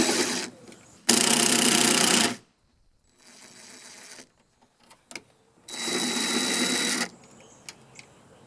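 Three-point Torx screws being driven out of a Ford Super Cab pickup rear door: two long, loud bursts of motorized whirring separated by quieter clicks and handling noises.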